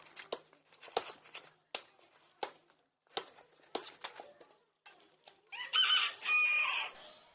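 A chicken crows loudly near the end, a close, drawn-out call following a stretch of sparse knocks and quiet background sounds.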